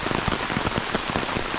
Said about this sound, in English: when it rains like this, like, doesn't matter how many coats or umbrellas or anything you got, you're gonna start getting wet.